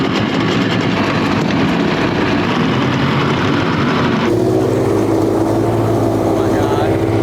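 Twin outboard engines pushing a tiny boat, a loud continuous close-up motor roar that shifts pitch partway through as the throttle changes, steady and unbroken to the end.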